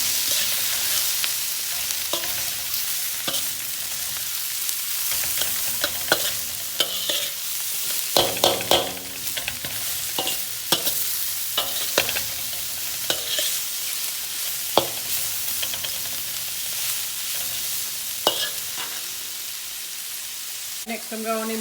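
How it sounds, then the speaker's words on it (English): Mushrooms and garlic stir-frying in a hot pan, with continuous hissing sizzle and repeated clinks and scrapes from stirring all the way through. "Give that a good stir."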